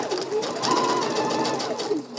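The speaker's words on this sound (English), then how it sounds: "gonna keep stitching around the pocket bag until I hit my little dot there." Sewing machine stitching around the pocket bag of an asymmetrical angled gathered dress, a steady close whirring run of rapid stitches for a couple of seconds with no talk.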